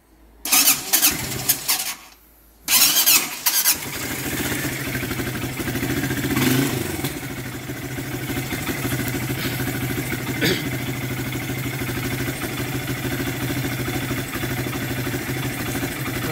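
A Triton 400R Baja ATV engine cranks and catches after a couple of tries, then settles into a steady, slightly uneven idle with small misfires, close and continuous.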